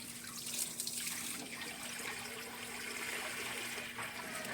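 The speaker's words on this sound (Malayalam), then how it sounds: "ഇത് വേഗം വെള്ളം നിറയുന്നു" Water rushes steadily into a drained fish pond as it quickly refills, a continuous close, moderately loud gushing wash with no talk.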